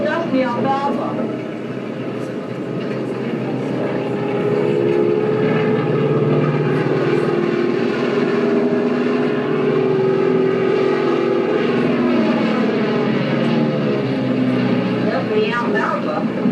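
A crop-dusting airplane flies over an alfalfa field, its steady propeller engine drone holding loud and continuous throughout, with voices talking over it.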